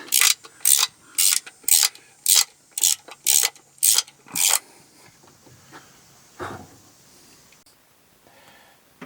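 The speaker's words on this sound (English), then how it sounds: "now I am just torquing these down to 7 foot-pounds" A torque wrench ratchets on oil pan bolts of a 2015 RAV4, a close, crisp run of about ten evenly spaced clicking bursts, followed by softer scattered handling noises.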